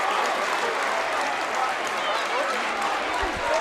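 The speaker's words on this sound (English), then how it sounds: "Just listen to this crowd." A packed crowd at a high school boys basketball sectional semi-final roars and applauds in a steady, loud wash of cheering that fills the gym, with no clear voices standing out.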